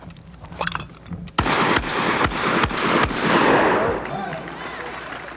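Rapid shotgun shots ring out at several thrown clay targets, five sharp blasts fired quickly in succession, each echoing outdoors, with a voice talking under the opening moments.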